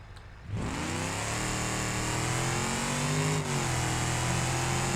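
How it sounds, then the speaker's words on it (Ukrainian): A 429-horsepower rock racer car drives toward a speed bump. After a brief quiet start, its engine settles into a loud, steady drone that shifts pitch slightly partway through, with no talking. "як ця машина зараз проїде нашу перепону."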